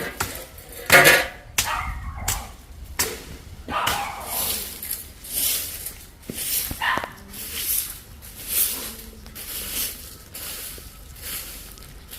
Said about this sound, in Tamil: அதுக்கு ஒரு செல்லக்குட்டி நாய்க்குட்டி வந்து கத்தி கொண்டு இருக்கு.